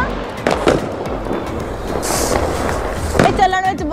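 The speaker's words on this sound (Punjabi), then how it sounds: "ਅਸੀਂ ਚਲਾ ਦਿੱਤੀ ਹੈ ਜੀ ਫੁੱਲ ਝੜੀ" A Diwali phuljhari sparkler firework, lit at a family celebration with neighbours, fizzes and crackles steadily for a few seconds, with a brighter hissing burst midway and voices talking in the background.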